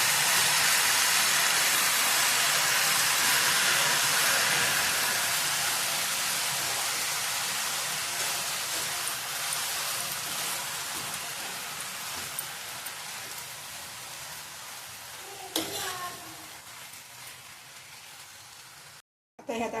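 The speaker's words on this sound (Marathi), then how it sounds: "टमाट्याचे परतून घेऊया।" Tomatoes sauté in a hot pan for a green spring onion dish, a loud, steady sizzle that slowly fades, with a few stirring clicks and scrapes near the end before a brief cutoff.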